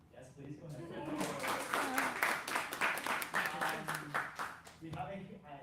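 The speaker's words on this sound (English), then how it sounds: "I would like to have a round of applause for Chris" An audience at a tech community anniversary party claps for a person, the applause building quickly, holding strong and fairly close, then tapering near the end while a voice speaks over part of it.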